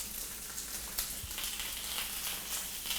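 Onions stirred and frying in a pan for a curry, a steady close sizzle with a few scraping stir bumps, no talk over it.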